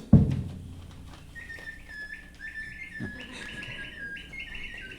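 A person whistles an imitation bird call at a klezmer band show, a string of short chirping whistled notes after a dull thump at the start, set against a quiet room.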